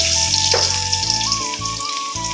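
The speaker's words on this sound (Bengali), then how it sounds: "রসুনগুলো একটু ভাজা ভাজা করবো।" Garlic cloves frying in a hot pan give a steady, close sizzle and crackle that runs without pause, with a faint tonal hum from the kitchen underneath.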